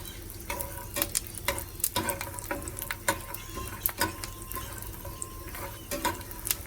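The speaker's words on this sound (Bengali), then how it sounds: "তেলের উপরে বাদামগুলো দিয়ে দিয়েছি এটা ভাজা হয়ে গেলে আমি তুলে নেব" Peanuts frying in hot oil, a constant sizzle broken by sharp scraping and clacking strokes of a spoon stirring the pan, close up with no voices.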